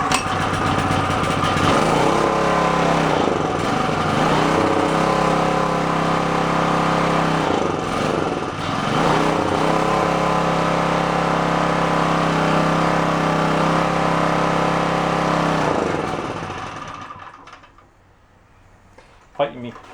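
Small Onan generator engine from a yard sale running loud and close with a buzzing, chugging drone for about sixteen seconds before it winds down and stops, leaving a few faint clunks.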